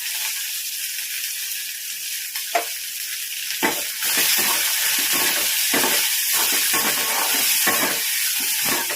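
Curry leaves hit hot oil for an egg curry, starting with a quiet hiss and then bursting into a loud, crackling sizzle with sharp spits and pops that keeps going.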